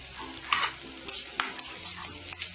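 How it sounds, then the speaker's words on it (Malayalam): Half-cooked rice is stirred in a pan for chicken fried rice, giving close, repeated scraping and clattering strokes over a soft sizzle, with no talk. "അത് ഇതിലേക്ക് ഇട്ടിട്ട് ഇളക്കി കൊടുക്കാം."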